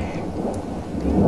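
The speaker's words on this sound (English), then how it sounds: "Do you think that's the same thunder?" Thunder in the Left 4 Dead 2 game, a brief deep rumble over steady rain hiss that swells louder toward the end.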